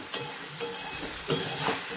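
Cauliflower florets and potato pieces frying in a pan, a steady close sizzle with a few louder scrapes and stirs of a utensil, no one talking.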